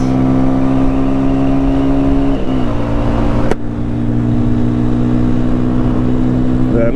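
A Sonlink SL 150KD motorcycle engine drones steadily at close range, its pitch dipping briefly around a gear change with a short sharp click midway, then pulling on again; no talk.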